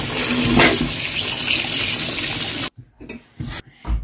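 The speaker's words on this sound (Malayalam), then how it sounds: "ഇനി നമുക്ക് ഇത് ടാപ്പ് വാട്ടറിൽ കഴുകിയെടുക്കാം" Tap water runs over Chinese potatoes (koorka) being washed, a continuous close splashing stream that stops abruptly partway, followed by a few brief drips and handling knocks.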